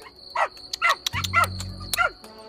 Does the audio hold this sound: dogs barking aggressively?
yes